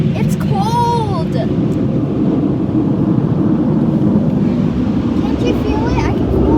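An automatic car wash runs with a loud, continuous whooshing roar like a jet airplane, while a voice and other voices talk briefly over it in the cold.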